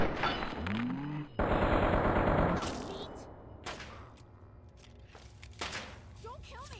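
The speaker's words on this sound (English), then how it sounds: "Got a 10 millimeter submachine gun." Bursts of automatic fire from a 10mm submachine gun in Fallout 3, rattling in loud rapid volleys with short gaps, a dense stretch early on followed by scattered shots and thuds as the firing trails off.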